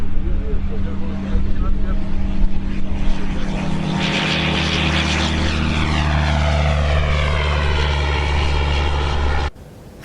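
The propeller engine of a Shark ultralight aircraft drones steadily and loudly, a sustained rumbling hum with a shifting pitch, before cutting off abruptly near the end.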